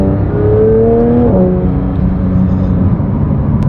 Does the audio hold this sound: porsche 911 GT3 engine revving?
yes